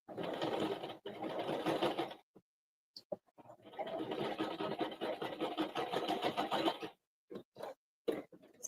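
A home sewing machine stitches fabric for a knotted baby hat, running in steady whirring bursts of a couple of seconds each, with brief pauses and short restarts, close and clear.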